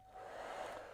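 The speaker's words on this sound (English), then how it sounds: "if I hold the hairdryer up like this, the air will go up" A handheld hair dryer blows a steady, broad rush of air with a faint motor whine, held up and pointed upward in a science demonstration about moving air; close and continuous, no talk.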